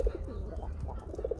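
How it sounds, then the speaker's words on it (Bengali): A black gulla pigeon, one of a pair, coos in a steady run of soft, low, rounded calls, close by and clear over a faint background hum. "এটা গুল্লা কবুতর, আর ডাকটা মারাত্মক লেভেলের, খুবই সুন্দর ডাকে"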